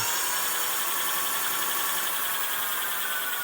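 A 1500 W electric motor on a fat bike spins freely with no braking, giving a steady, even high-pitched whine that stays close and constant with no talking.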